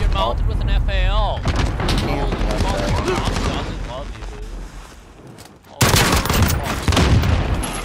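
Rapid bursts of FAL rifle fire in Call of Duty: Modern Warfare crackle up close, mixed with other battle noise, while players talk excitedly over the shooting.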